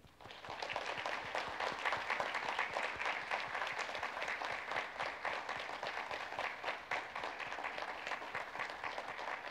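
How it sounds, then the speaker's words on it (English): A large crowd claps steadily for several seconds at a university convocation ceremony, a dense, even wash of applause heard from a distance. "Let's give them our warmest round of applause."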